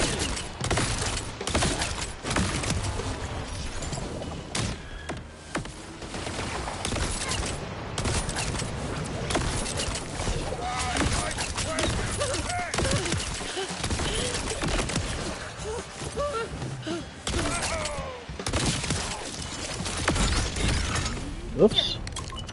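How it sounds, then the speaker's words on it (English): Dense bursts of crackling, popping fireworks pour from a Borderlands 4 shield in constant, chaotic volleys, mixed with gunfire and combat noise, loud and close, with a voice talking over the din throughout. "my shield, which is firing off fireworks left, right, and sideways, is a little bit nuts"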